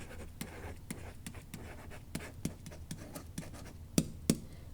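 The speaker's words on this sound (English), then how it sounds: "So let's write that in here." Pen writing a chemistry note by hand about strong-acid dissociation, heard as quick scratchy strokes and taps in an irregular rhythm, close and fairly quiet, with no talking.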